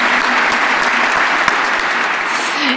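An audience at a French-speaking evening presentation keeps clapping in a sustained, even wash of applause that holds at a steady level and thins slightly at the end.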